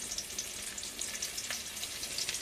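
Chopped onion frying in oil in a wok, a steady bright sizzle with fine crackling pops, close and even throughout with no voices.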